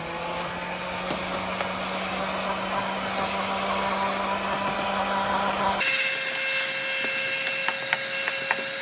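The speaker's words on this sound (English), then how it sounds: "I carefully heat the film with it, then it becomes sticky and easily adheres to the glass" Construction heat gun blowing a steady loud roar while heating protective film on a car headlight, its tone shifting partway through, with a few faint clicks near the end.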